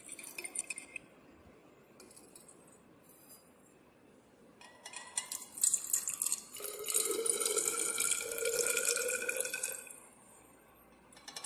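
Distilled water is poured into a glass conical flask holding sodium bicarbonate in a lab, a faint quiet start followed by a few seconds of trickling, splashing liquid that then tapers off.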